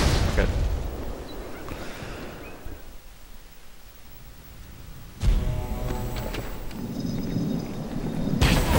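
Grenade blasts in the game Halo 2, a roaring burst of explosive noise at the start, a quieter lull, then another sharp loud detonation followed by sustained rumbling battle noise.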